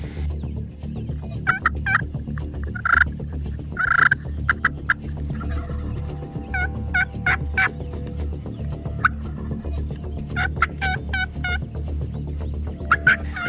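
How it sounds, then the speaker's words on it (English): Rio Grande wild turkeys gobble repeatedly from several directions at daybreak, bursts overlapping and echoing at mid distance over a low steady background rumble. "there are turkeys gobbling everywhere in front of us"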